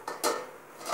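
A metal lid lifted off a cooking pot of Malvani prawn masala, with a few short clanks and a soft scrape of metal on metal, close by and fairly quiet.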